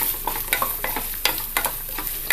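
Small pieces of coconut frying in oil in a pan for Vishu rice payasam, with a steady sizzle broken by quick, rhythmic scrapes of a spoon stirring them, close and clear, with no voices.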